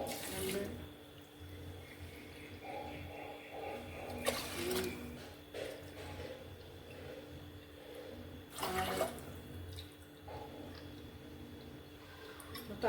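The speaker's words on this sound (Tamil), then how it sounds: "இப்போ வந்து நம்ம 5 கப்பு தண்ணி வைக்க போகிறோம்" Five cups of water poured into a pot for making ven pongal, a continuous running-water wash with a few sharper clunks and splashes, close by and moderately loud.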